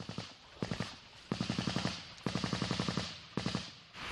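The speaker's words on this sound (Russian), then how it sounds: "Стрільба продовжується більше получаса," Rapid bursts of automatic gunfire crack out at military front-line positions in several rattling volleys, separated by short pauses, loud and close.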